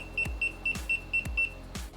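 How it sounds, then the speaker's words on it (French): A small GPS tracker tag, set off remotely from a phone app, sounds a repeating alarm of short, evenly spaced high beeps, about two per half second, close and clear, with a few thumps underneath and no talking. "Je peux essayer plusieurs fois en cliquant sur alarme, arrêt d'alarme."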